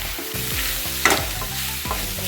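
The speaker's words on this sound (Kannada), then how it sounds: "ಫ್ಲವರ್ ಹಾಕ್ತಾ ಇದ್ದರೆ ಇದನ್ನು ಒಂದು ಸ್ವಲ್ಪ ಬಿಸಿ ಮಾಡ್ಕೋಬೇಕ್ರೆ. ಸ್ವಲ್ಪ ಉರಿಬೇಕು." Cauliflower is heated and stirred in a hot pan for gobi paratha. A utensil scrapes in regular strokes under a continuous close sizzle, with one brighter clink partway through.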